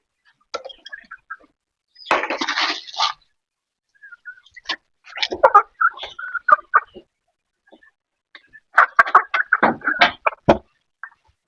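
Domestic chickens cluck in a backyard flock, giving irregular bursts of close, fairly loud clucks and squawks with brief quiet gaps between them.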